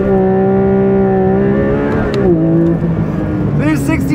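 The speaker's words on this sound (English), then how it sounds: "So to engage that in this car, you just go into first, clutch in, pin the throttle." A Porsche 911 S/T with a manual gearbox launches under launch control: the engine holds steady revs near 5,000 rpm, loud and close, then dips as the clutch engages and climbs again as the car accelerates.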